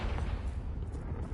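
The Confringo blasting spell goes off in Hogwarts Legacy on PS5: a low, rumbling boom that stays dull and fairly quiet and runs through the whole short moment without a sharp attack, with no talking.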